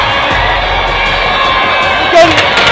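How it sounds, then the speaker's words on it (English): A large crowd celebrates India's Champions Trophy win at India Gate, a steady dense roar of cheering and shouting with a louder whoop rising near the end. "You can definitely see the crowd that has gathered, the kind of crowd is here. You can see everybody is celebrating"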